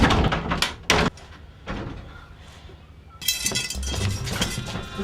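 A door in an attic opens with clunks and rattling bangs, followed by a louder, longer scraping and rumbling as it swings.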